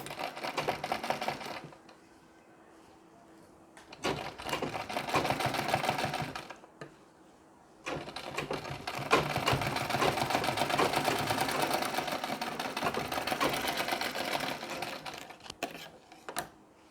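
A sewing machine stitches a pleat on a Nauvari saree with long stitches, whirring steadily in close bursts of a few seconds each, broken by brief quiet pauses between runs.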